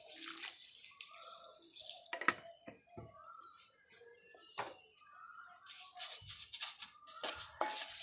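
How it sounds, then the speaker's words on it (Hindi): Gentle splashing and trickling of water poured into a pan with sugar for a patishapta dessert, uneven bursts close by, with faint clinks in a quiet kitchen. "अभी थोड़ा सा पानी मिला दे रही हूँ।"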